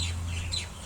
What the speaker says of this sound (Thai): เสียงนกยางครับผมเยอะแยะเลย